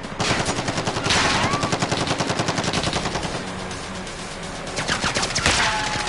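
Close, loud automatic gunfire in Call of Duty: Warzone rattles in a steady rapid stream for several seconds, easing slightly midway before surging again.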